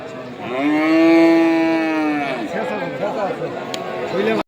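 A cow gives a loud, drawn-out moo at a busy cattle market where animals are bought for Qurbani. A second, fainter lowing follows beneath the chatter of a crowd.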